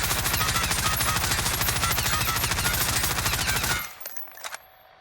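Fara 83 rifle in Call of Duty Warzone emptying a full 60-round magazine in one continuous rapid automatic burst, loud and close, ending abruptly with a few faint clicks and handling noises afterward.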